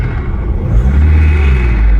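A simulated car engine plays through a phone speaker from the Wrumer app, a loud, steady low rumble that rises slightly in pitch, with no talk.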